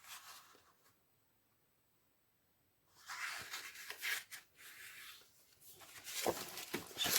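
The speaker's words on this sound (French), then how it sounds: "Ensuite, on va le plier en deux." A piece of card paper, cut to 31 by 12.5 cm for a small interactive card, is folded in half by hand. A few seconds of near silence give way to close, dry rustling, rubbing and creasing sounds.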